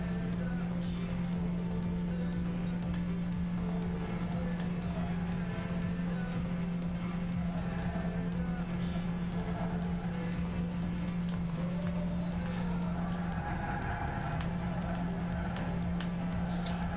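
Racing car engine in Gran Turismo 6 on PS3 with an odd, strained noise, a steady loud drone holding one pitch for most of the lap with a brief wobble near the end, running alone.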